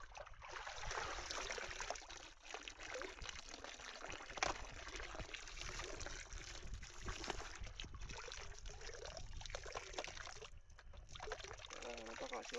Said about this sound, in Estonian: Nüüd me võtame selle anuma vett täis.